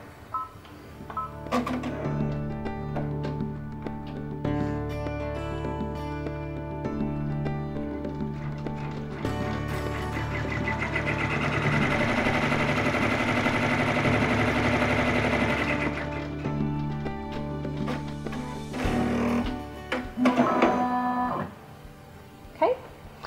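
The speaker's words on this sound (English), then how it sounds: "we're going to stitch the tack down stitching for this second fabric" An embroidery machine stitches tack-down stitching onto a second applique fabric for a quilted letter, its rapid rhythmic whirring running steadily for a long stretch, close and moderately loud, with a few clicks toward the end.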